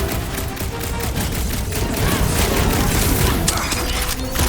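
Constant, dense combat gunfire in Marvel's Guardians of the Galaxy, with rapid shots and booms running together into a loud, unbroken wall of noise against swarming creatures.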